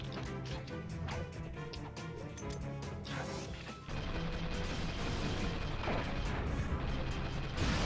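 Mini turrets firing in Ratchet & Clank 3: Up Your Arsenal, a dense, continuous barrage of crashing blasts and pops under steady game noise, loud and unbroken throughout.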